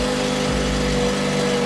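A car's engine and exhaust idle steadily nearby, a smooth continuous low rumble with a faint shift partway through, no talking.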